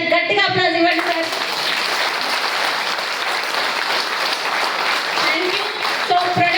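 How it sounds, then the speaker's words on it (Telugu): Audience applause at a company event speech, a dense burst of clapping filling most of the clip, with a speaker's voice briefly heard at the start and end. "ఒకసారి గట్టిగా అప్లాజ్ ఇవ్వండి సార్."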